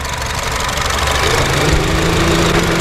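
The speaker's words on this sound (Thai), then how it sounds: "เดี๋ยวเราไปดูเครื่องยนต์กันครับ เครื่องยนต์เดินเงียบนะครับ" A 2008 Honda Jazz 1.5 V petrol engine idles quietly with the bonnet open, a smooth, even hum with a light mechanical tick and steady low vibration, heard close up with no talk.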